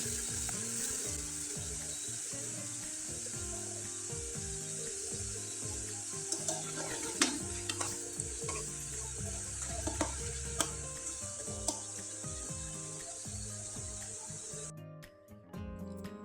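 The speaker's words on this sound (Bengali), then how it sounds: "পিঠাগুলো একবারে মুচমুচে করে ভেজে নিলাম" Rice flour pitha deep fry in hot oil with a steady, dense sizzle and occasional crackles and pops, close by and fairly quiet, with no talking.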